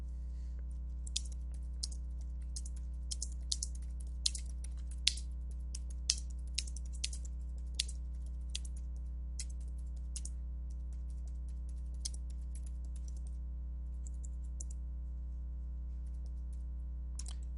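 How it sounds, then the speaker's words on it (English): Keys clatter on a computer keyboard in quick, uneven bursts of clicks over a steady low electrical hum, with no voices. "your text will type just through the keyboard"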